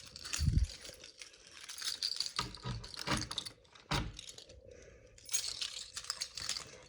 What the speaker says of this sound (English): When you have a whole handful of keys, it's a little difficult sometimes.